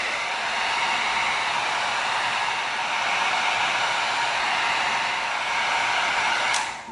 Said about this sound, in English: now what we're gonna do is we're gonna come in with the heat gun